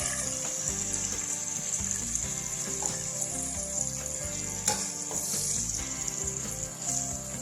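Steady, loud sizzling and crackling of chopped onions frying in hot oil, continuous throughout, with small clinks and stirring noises over it and no voices.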